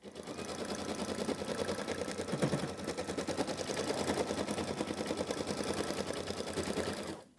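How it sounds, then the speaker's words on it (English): An embroidery machine stitches a placement outline onto a mini quilt with a rapid, steady mechanical chatter, close and continuous for several seconds before stopping abruptly at the end. "it's going to stitch the placement outline for where the chick is going to go"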